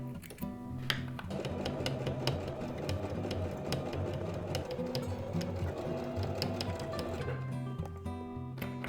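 Sewing machine stitching fabric for a kitchen oven mitt, a steady rapid mechanical whir with fast ticking needle strokes, running continuously and close for several seconds before slowing at the end.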